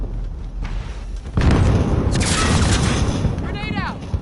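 A grenade blows up during a first-person shooter match in the Call of Duty style, a sudden loud blast that drops into a rumbling, crackling tail amid gunfire, with voices in the game audible.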